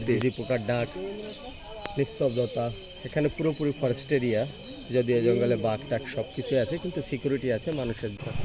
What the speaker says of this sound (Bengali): এখানে ঝিঝি পোকার ডাক, নিস্তব্ধতা, এখানে পুরোপুরি ফরেস্ট এরিয়া